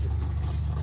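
A truck's race-tuned engine running on a new setup, a steady low throbbing rumble close by, short and even without voices.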